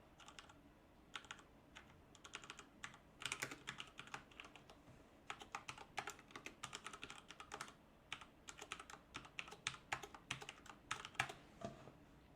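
Someone typing code on a computer keyboard: quiet, rapid clusters of key clicks in irregular bursts with brief pauses, close and without speech.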